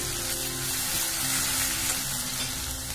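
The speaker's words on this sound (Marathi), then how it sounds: "अर्धा चमचा जिरे, हे लसूण खोबऱ्याचे वाटण, हे आपण चांगलं तेलात मिक्स करूया." Cumin seeds and a garlic and coconut paste sizzle in hot oil while being stirred in, a steady close frying hiss with faint scraping.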